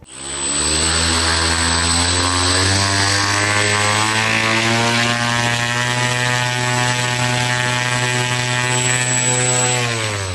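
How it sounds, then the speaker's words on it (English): A passenger drone flying taxi in flight gives off a loud, steady whirring drone that holds without a break throughout. "remember I said it was really a passenger drone"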